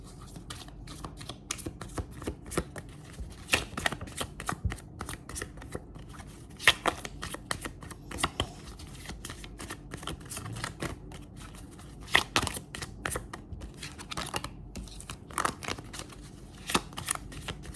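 Tarot deck shuffled for a general reading: repeated crisp slaps and flicks of cards in an uneven rhythm, close and fairly quiet, continuing throughout.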